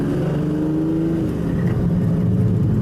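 A Lamborghini Countach driving on a public road gives a continuous loud engine drone with a low, even hum and a slight rise in pitch, heard from inside or close by with no talking.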